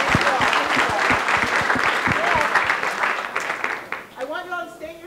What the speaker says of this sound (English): Big round of applause for our very